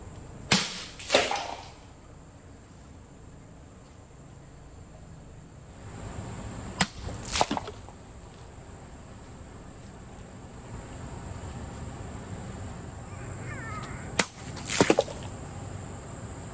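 An Austrian 1904 pattern cavalry sword makes cut tests: three sharp, close swishing chops with impacts, spaced several seconds apart, against a quiet outdoor background with no talk.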